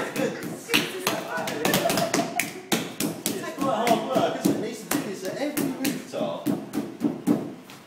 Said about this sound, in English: throw it onto the mould like this